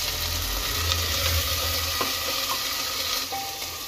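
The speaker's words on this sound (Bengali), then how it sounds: "আদা রসুনটা ভুনে নিলাম" Ginger-garlic paste fries in a pan, producing a steady close hiss over a low rumble, with faint stirring scrapes and no talk.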